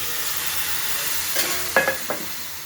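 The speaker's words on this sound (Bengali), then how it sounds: "জল দিয়ে দিচ্ছি, অল্প ভাজা করে তারপরে জলটা দিয়ে দেবো" Frying dal with tomato sizzles steadily as water is poured in, bringing a few brief louder bursts of hiss and spatter near the end, with no one speaking.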